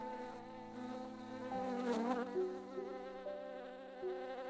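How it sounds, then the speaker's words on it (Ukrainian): A close, steady insect buzz with a rich harmonic drone that wavers and swells in pitch, like a bee hovering near the ear. "одна нахабна бджола на випередки літала за тобою. Вона, наче привід, дзенчала над вухом"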